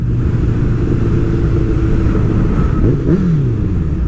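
A motorcycle engine revs and accelerates up close, a steady loud rumbling drone with rising pitch sweeps near the end and no talk over it.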